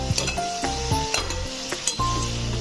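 Vegetables frying in a pan for a Bengali wedding-style chhyachra, a close, lively sizzle broken by repeated spatula strokes and metallic scrapes against the pan, with no one speaking.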